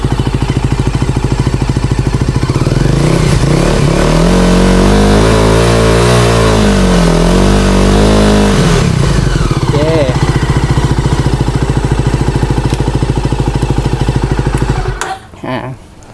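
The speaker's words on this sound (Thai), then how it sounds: "เสียงเครื่องยนต์นิ่มๆนะครับไม่ดังไม่หอน" A GPX MAD300 motorcycle engine runs loud and close, revving up and easing back down before settling into a steady idle, then cutting off near the end.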